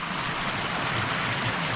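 Coney Brook stream flowing strongly after a beaver dam was unblocked, a steady full rush of water close by, continuous and loud with no talking.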